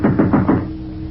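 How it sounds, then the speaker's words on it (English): A door is knocked on in an old-time radio drama, four quick evenly spaced raps close up, followed by a brief quiet tail. "a knock sounded on the door."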